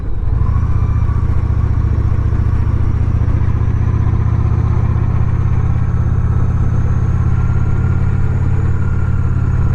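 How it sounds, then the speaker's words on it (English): A diesel truck engine drones in a steady, loud low rumble for the whole stretch, heard close from a following vehicle, with a faint high whine above it. "Ah, nice diesel truck."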